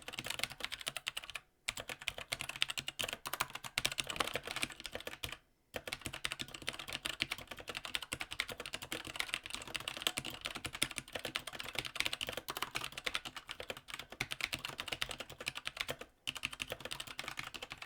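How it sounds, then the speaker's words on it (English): Rapid, continuous clicking of keys on a mechanical keyboard, crisp and close, with a few brief pauses between bursts of typing. "some sweet, unadulterated keyboard typing coming up"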